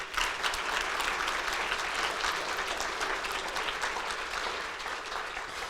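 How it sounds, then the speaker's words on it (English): Sustained, dense audience applause fills an awards ceremony hall, steady and even throughout before fading slightly at the end. "That in itself deserves a round of applause."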